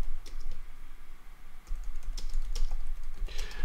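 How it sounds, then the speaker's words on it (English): Steady typing on a computer keyboard, rapid clicking keystrokes close up with a brief lull in the middle, over a faint room hum and with no voices. "All right, so I'm just typing whatever."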